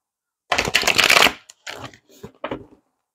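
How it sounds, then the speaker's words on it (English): A deck of tarot cards is shuffled close by: one long riffle burst, then several shorter, fainter shuffles with gaps between them. "Not doing a good job at shuffling today."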